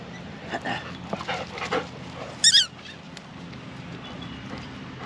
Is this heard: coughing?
no